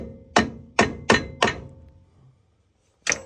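Hammer blows on a torsion key of a Ford F150 truck: four sharp metallic strikes in quick succession, a pause, then a fifth, close and loud with no talk.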